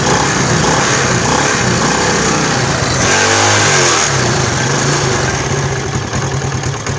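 A motorcycle engine runs loud and steady after a timing gear repair, revving briefly partway through before settling back to a continuous idle, with no talk over it.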